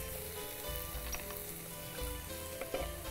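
Tomato and fenugreek leaves sautéing in a pan, a quiet close sizzle with occasional soft scrapes and clicks of stirring.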